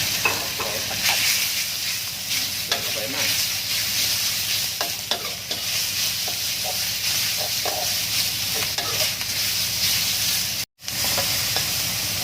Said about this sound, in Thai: ลงผัดกะเพราเนื้อครับ